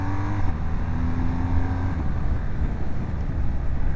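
A BMW R1250GS motorcycle rides through traffic, its engine note steady and close with a brief higher whine early on, plus wind rushing over the microphone and no talk.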